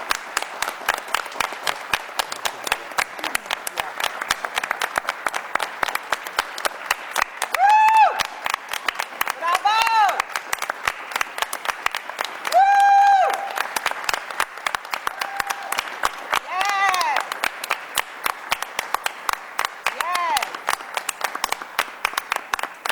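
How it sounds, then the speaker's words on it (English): Applause for a student named Jason at a school board meeting, steady dense clapping from a seated audience lasting the whole stretch, with a few brief voices and cheers rising over it. "please give Jason a round of applause"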